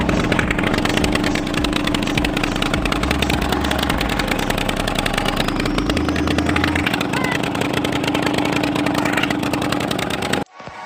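A motorboat engine drones steadily and loudly during a river crossing to Mousuni Island, a constant close chugging hum that cuts off abruptly at the end.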